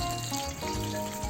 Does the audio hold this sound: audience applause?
no